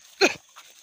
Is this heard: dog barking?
yes